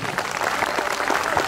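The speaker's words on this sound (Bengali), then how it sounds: "একটু জোরে হাত তালি, জোরে হাত তালি" An audience at a Silver Jubilee event for Ambition Sports Wear claps together in a dense, steady burst of applause, fairly loud, with no one talking over it.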